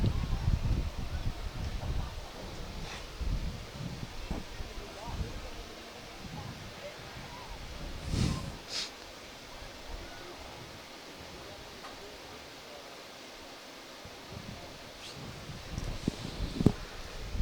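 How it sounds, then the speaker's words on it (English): Wind gusting through an open press box window at a high school girls soccer match, a steady broadband rush with rustling bursts and occasional louder gusts, with distant voices underneath. "I just opened the press box window, and that wind is starting to pick up."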